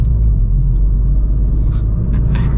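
A 2024 Ford Fiesta ST3 facelift in sport mode gives a steady, loud low engine rumble with road noise while driving, continuous and without talk.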